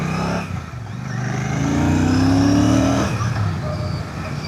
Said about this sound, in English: There's a properly lovely sounding bike.